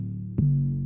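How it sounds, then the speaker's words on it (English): A single clap hits together with a deep, sustained 808 bass note that rings on underneath, a short loud burst followed by a steady low hum in a bouncy beat. "the clap with the 808 sounds like this"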